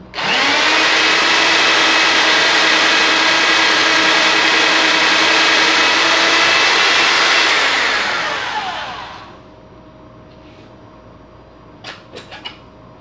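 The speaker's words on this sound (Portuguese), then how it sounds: "Função furadeira sem impacto." A SIGA Tools ST306 SDS Plus 1200W rotary hammer, set to plain drilling with no impact and fitted with a normal chuck, whirs loudly and steadily up close for about eight seconds, then spins down, leaving a few faint clicks.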